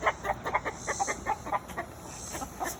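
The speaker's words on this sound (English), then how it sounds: "I'll show you what you do when a rooster is vlogging you." A rooster clucking close by, a run of short, rapid clucks in quick succession followed by a couple of scattered ones, over a steady background hiss.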